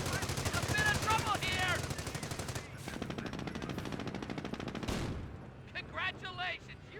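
Rapid bursts of M1919 .30 cal machine-gun fire from several guns in the Company of Heroes game, a dense continuous chatter that tapers off, with battle noise and occasional speech mixed in.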